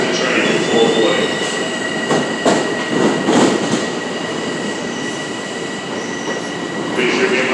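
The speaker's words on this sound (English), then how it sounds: "That is the 610 train to Far Rockaway now arriving on track 6." A Seaford-bound LIRR M7 electric train rolls through Jamaica station without stopping, loud and close, with wheel squeal, rail clatter and a steady rumble.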